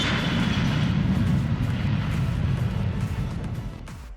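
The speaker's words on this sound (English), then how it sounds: "The E-3 Sentry aircraft" An E-3 Sentry airborne early-warning aircraft, fitted with a radar on its fuselage, flies past with a loud, steady jet roar that holds throughout and eases off slightly at the end.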